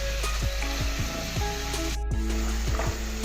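Chicken fries in a pan with a steady, loud hiss and sizzle, while a spatula scrapes and knocks against the metal in an irregular rhythm.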